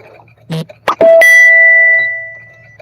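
A chime notification rings out loud, alone, after a few brief knocks and rustles in a home craft room, holding a clear sustained tone that slowly fades over about two seconds.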